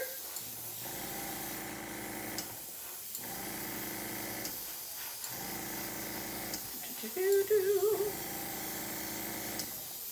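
An airbrush hisses as it sprays paint onto bath bombs in repeated bursts of a few seconds each, close and fairly loud, with short pauses between them.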